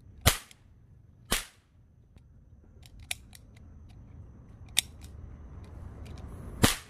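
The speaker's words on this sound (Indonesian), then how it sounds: "ternyata cowboy pistol" A toy cowboy pistol fires five sharp, close cap-gun snaps at irregular intervals over a quiet background, with two bursts near the start and three spread through the rest.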